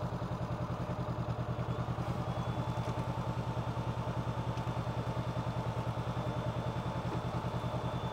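A training motorcycle idles steadily at a standstill after a slow-speed riding lesson, a close, even low throb with fast regular pulses continuing without a break.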